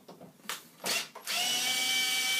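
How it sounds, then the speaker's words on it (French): A powered screwdriver whirs out screws from a Renault Scenic dashboard, short clicks and bursts followed by a steady, close high-pitched spinning whine. "il suffit d'enlever les vis"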